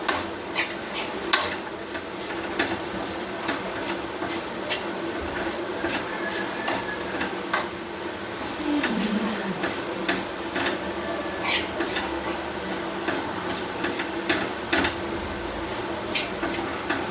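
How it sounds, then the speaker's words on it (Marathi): A spoon scrapes and taps repeatedly in a pan while karanji filling with cardamom powder is stirred, a steady stream of light clinks and scrapes at moderate level. "आता मी याच्यात वेलची पावडर टाकते थोडीशी थोड्या वेळ परतून घ्यायचं"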